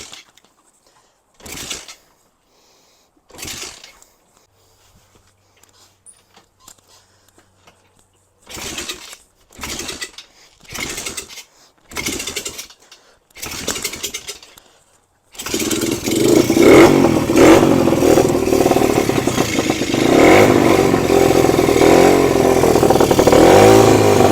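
A cheap 125cc pit bike engine coughs through several short kick-start attempts, then catches and runs loudly and steadily for the rest of the clip.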